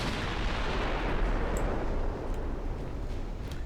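Heavy naval gunfire from battleships in a Dreadnought-era warship game, a dense continuous rumble of booming broadside shots and distant blasts with faint higher cracks, loud and sustained throughout with no pause.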